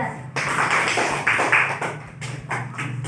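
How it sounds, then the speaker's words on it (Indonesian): A classroom audience claps for a student group after its presentation, a short burst of close, uneven clapping that rises, dips and picks up again over about three seconds. "Kita beri aplaus untuk kelompok 3"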